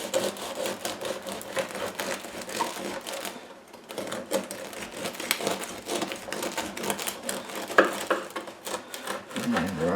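A knife saws through a loaf of homemade sourdough bread in a busy, rapid stream of crisp crust-cracking rasps, close and continuous, with one brief lull partway through.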